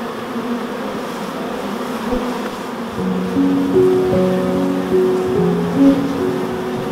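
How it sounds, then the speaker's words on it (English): Honey bees buzz around a hive, a steady droning swarm with rising pitched tones, close and fairly loud, getting denser after a few seconds. "I'm glad to see some bees have already moved in"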